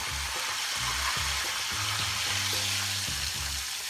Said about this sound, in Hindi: अब ये जो ऑयल है थोड़ा सा तो इसके ऊपर डालेंगे।